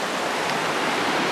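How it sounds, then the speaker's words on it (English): Spring water wells straight up out of the ground into a river, a steady, close rushing and gurgling wash with no talk. "The water's just coming straight up out of the ground there, feeding into the river"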